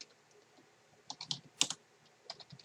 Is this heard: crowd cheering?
no